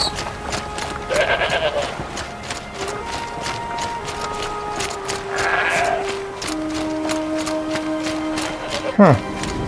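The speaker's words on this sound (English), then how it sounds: "Goats." Several goats bleat in Horizon Zero Dawn, loud wavering calls at intervals over continuous game ambience and light footsteps, with talk faintly present underneath.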